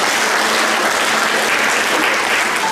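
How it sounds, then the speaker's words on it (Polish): Sustained audience applause fills a conference hall at a regional foster-parenting day event in Olsztyn, steady and dense clapping throughout with no pauses. "Duże brawa."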